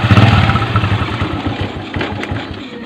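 A Bajaj CT 100 motorcycle engine runs close by with a steady low idling rumble, slightly louder at the start and then settling into an even putter for the whole stretch.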